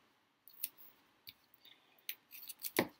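Scissors snip and rub through sticky tape in short, separate close-up bursts: a few sharp cuts and scrapes spaced across a quiet background, growing busier toward the end.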